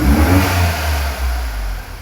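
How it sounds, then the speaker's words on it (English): Skoda Fabia engine revved close up, a loud, steady mid-pitched roar that swells and eases slightly over two seconds, with no talking. "if you listen carefully when I rev it"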